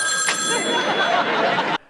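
A telephone rings in a TV sitcom scene, a single continuous electronic trill lasting under two seconds over a steady background, then cutting off abruptly.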